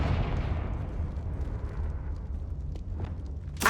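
Confringo explosive curse from Hogwarts Legacy: a sustained rumbling fiery blast that decays over several seconds, then a sharp bright burst near the end.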